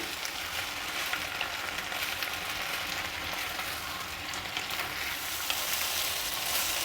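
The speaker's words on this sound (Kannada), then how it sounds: "ಈಗ ಸಾಕಷ್ಟು ಫ್ರೈ ಆಗ್ತಾ ಇದೆ ಬದನೆಕಾಯಿ ಮಾತ್ರ ಸ್ವಲ್ಪ ಬೇಯಬೇಕು" Eggplant frying in a pan for a chutney, giving a steady, moderately loud crackling sizzle throughout with faint stirring and no talk.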